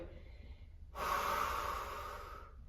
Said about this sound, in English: focus on your breathing, inhaling in and exhaling